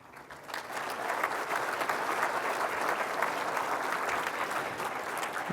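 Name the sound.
audience applause at hall of fame induction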